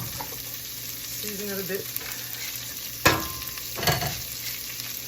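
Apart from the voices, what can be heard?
stirring rough chopped cauliflower sizzling in a pot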